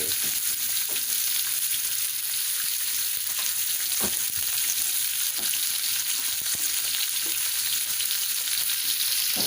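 Pork liver and banana peppers stir-frying in a pan: a steady, loud sizzle with occasional scrapes and stirring clicks, close up and continuous, with no voices.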